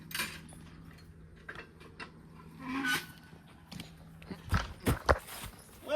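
Draft horses walk steadily while skidding logs, their hooves clopping unevenly with a few sharp knocks and scrapes toward the end, over a low rumbling background.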